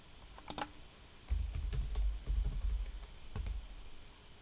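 Keys clatter on a computer keyboard while a Windows Server 2016 Server Core machine is being configured, with a few sharp clicks followed by a steady burst of close, quick typing.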